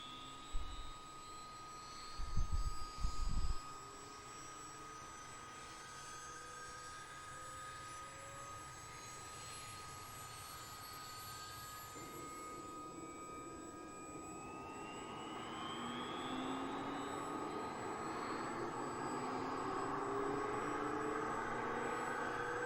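A CH-47D Chinook helicopter engine starting up in Microsoft Flight Simulator, with a few low thumps early on and then a steady turbine whine that slowly rises in pitch and grows louder, heard alone.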